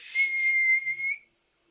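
A single rising-then-steady whistle, loud and close, like someone calling a horse, held for about a second before cutting to silence.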